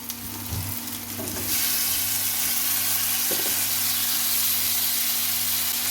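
Tomato and spices for mutton keema fry and get stirred in a pan, a loud, dense sizzle that swells after the first second and holds steady, with a couple of scraping stirs near the start.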